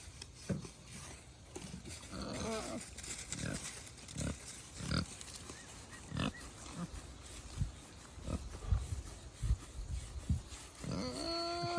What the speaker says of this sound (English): Look at this happy pig.